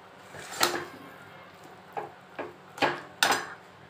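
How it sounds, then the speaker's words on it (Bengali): Homemade mango pickle goes into a glass jar: several sharp clinks and knocks of a utensil against glass, spaced irregularly over a quiet kitchen background. "এবার কাচের জারে আমি এটা ভরে দেবো।"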